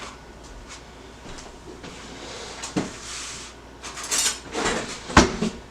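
Cutlery and dishes rattling in a home kitchen as a spoon is fetched, with scattered clinks and sharper metallic clatters growing louder toward the end, close by and without talk.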